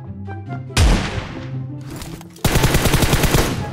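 Bursts of M4 rifle fire in a shooter video game, a loud opening volley followed after a pause by a rapid, sustained automatic stream of close shots.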